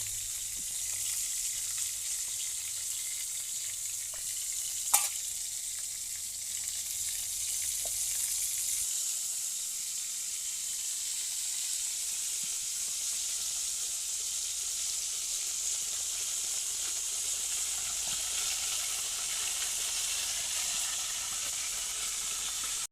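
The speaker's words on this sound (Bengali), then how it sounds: "তেলাপিয়া তেলাপিয়া মাছ ভাজি, দো পেঁয়াজি করছে আর কি" Tilapia fish frying in hot oil for a do-peyaji curry gives a steady, even sizzle throughout, with a brief sharp clatter near the start and no talking.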